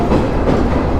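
A local train passes over a rail track near a station, a loud, close, continuous rumble of wheels and carriages filling the whole moment.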